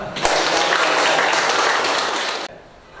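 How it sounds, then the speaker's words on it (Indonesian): Classroom applause during an innovative teaching lesson, a burst of many hands clapping together for about two seconds, loud and close, stopping abruptly. "beri tepuk tangan dulu lah"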